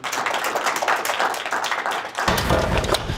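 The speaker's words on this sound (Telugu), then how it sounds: "ఇక్కడ మాట్లాడిన వారందరికీ క్లాప్ చేద్దాం." Audience clapping for the speakers at the close of a talk, a steady dense patter of many hands that swells louder and fuller partway through, with no voices over it.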